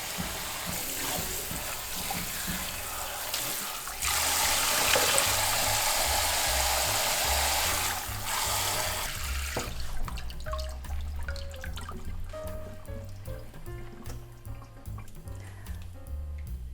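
Running water pours and splashes over brined napa cabbage being rinsed, a loud steady rush that gives way to irregular drips and trickles as it drains.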